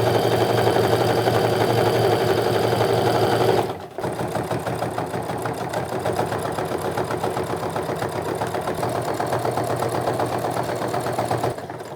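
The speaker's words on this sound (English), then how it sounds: "I'm just going to sew around the entire top of the bag" Home sewing machine stitching around the top edge of a lined tote bag, a fast, loud, steady mechanical whir that halts briefly near four seconds, then runs on and slows to a stop at the end.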